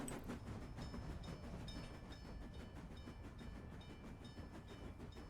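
A train passing in the city-building game Workers and Resources, a faint steady rolling rumble with rhythmic clickety-clack of wheels and a few soft metallic pings, no talk.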